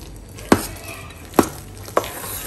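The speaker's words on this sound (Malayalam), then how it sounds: "ഇനി ഞാനിത് എല്ലാം കൂടി ഒന്ന് മിക്സ് ചെയ്തെടുക്കാൻ പോവുകയാണ്" Urad dal vada batter for Kerala-style uzhunnu vada being mixed by hand or spoon, giving three sharp, separate thuds or knocks against the bowl at irregular intervals over a faint background hiss.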